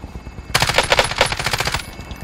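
Rapid automatic gunfire in Call of Duty Warzone, a single sustained burst of loud, closely spaced shots lasting over a second, then quiet game ambience.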